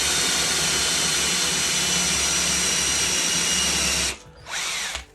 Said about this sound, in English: Run the drill backwards for the first couple of mils.